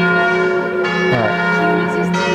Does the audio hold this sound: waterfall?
no